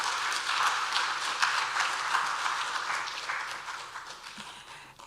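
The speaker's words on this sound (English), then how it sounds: "A round of applause," Applause from an audience welcomes a doctor onto the stage at a World Food Day commemoration, a steady moderate patter of many hands that fades out toward the end.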